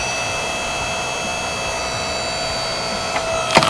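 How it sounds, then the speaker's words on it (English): An electric wood splitter's motor pump runs as a steady, even hum with a constant tone throughout, ending in a couple of brief louder knocks. "starts the motor pump, and it will not do anything unless you push the handle down at the same time"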